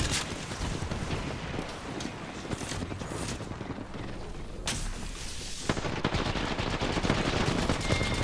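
Dense, continuous gunfire from a first-person shooter match in Apex Legends, loud bursts of rapid automatic shots and booming impacts packed together throughout, with a sharp cluster of cracks near the end.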